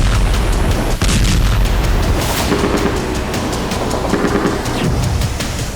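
Heavy, rumbling booms of explosions in a Ukrainian city under Russian drone attack, a dense, loud roar with one sharp blast near the start and a sustained low thunder throughout.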